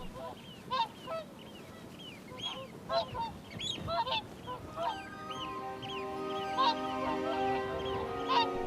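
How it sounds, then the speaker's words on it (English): Migrating swans stop to rest on a Scottish island and give repeated honking calls from close by, some in rapid clusters, while a steady musical tone rises underneath in the second half. "The swans are in transit,"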